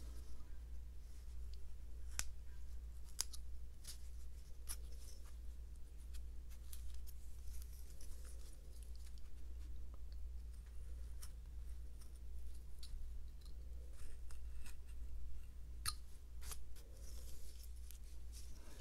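A knife whittles a small wooden wizard figure with sharp, scattered cutting clicks and scrapes, carving triangle and stop cuts around the nose, faint and close over a steady low background hum.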